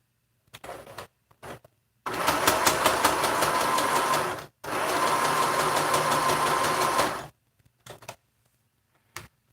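A sewing machine stitches through a fabric mask in two sustained bursts of steady, rapid mechanical whirring, separated by a brief pause and framed by short stops and starts, with no talking.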